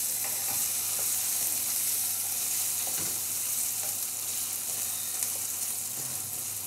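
Okra frying in a pan as masala is stirred through, a steady close sizzle with soft scraping strokes of the spoon, no voices over it.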